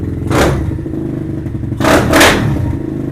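A Venom Thunder 125 dirt bike engine runs close by, idling with a rattling mechanical clatter and two short throttle blips that swell and fade.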